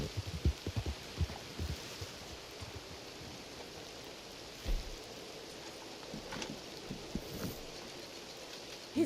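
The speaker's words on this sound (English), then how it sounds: "Why is it raining again?" Rain falling in Red Dead Redemption 2, a steady hiss of rainfall with scattered soft low thuds, continuous and fairly faint throughout.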